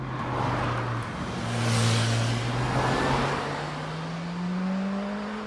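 A Caterham sports car passes on an alpine road, its engine note rising and swelling as it approaches, peaking loud mid-pass, then easing off while a second engine drone carries on steadily beneath.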